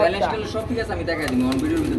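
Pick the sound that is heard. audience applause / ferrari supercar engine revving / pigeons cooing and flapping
pigeons cooing and flapping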